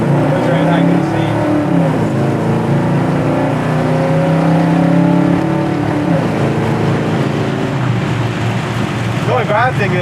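A 1970 Dodge Dart Swinger engine hums steadily while driving on a windy day, a loud, continuous drone with shifting tones heard from inside the car.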